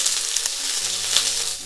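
Shishito peppers sizzle and fry steadily in a pan for Japanese home cooking, a close, even crackling hiss with a few louder spits.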